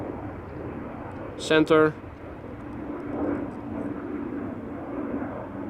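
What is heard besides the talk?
airplane departing Amsterdam Schiphol Airport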